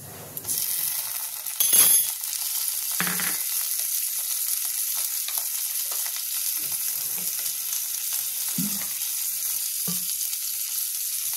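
Ginger, garlic and onion paste hits hot oil already seasoned with bay leaves and whole cumin, giving a steady, bright sizzle with a sharper burst early on and occasional soft clinks of stirring, with no voices.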